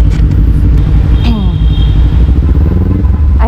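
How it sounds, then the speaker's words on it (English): Motorcycle fitted with an Italian Termignoni exhaust, a steady loud engine rumble running throughout, close by, with a brief rising rev partway through. "the exhaust, especially the exhaust of this bike"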